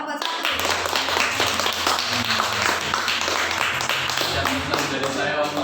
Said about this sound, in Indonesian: Beri aplaus dong untuk kelompok 1.